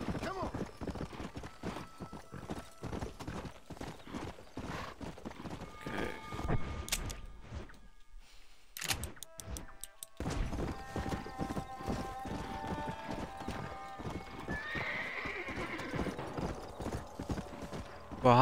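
Rapid, rhythmic hoofbeats of a galloping horse from the video game Red Dead Redemption pound steadily throughout, with occasional snorts and a whinny, and people talking over it.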